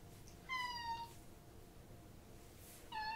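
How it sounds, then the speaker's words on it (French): A domestic cat gives two short meows, one near the start and one near the end, in a quiet painting workshop with faint background hiss. "et mon chat Jimbo qui me rend visite"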